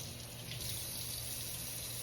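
Hot water runs steadily from a kitchen tap over canned sweet potatoes, a continuous close hiss and splash with no talking.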